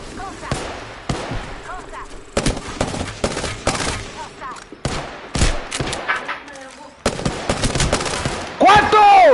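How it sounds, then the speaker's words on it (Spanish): Gunfire in a video game comes as sharp shots fired singly and in short bursts over a steady game background, loud and close, while people talk and shout over it. "Cuántos tiros, Nea"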